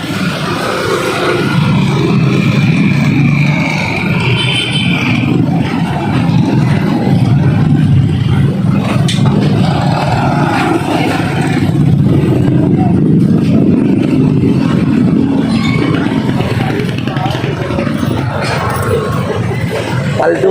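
A vehicle engine revs and pulls away at a busy neighborhood market, its drone steady and fairly close over the surrounding clatter and background murmur, with no clear speech on top.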